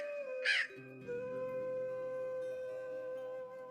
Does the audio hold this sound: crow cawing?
yes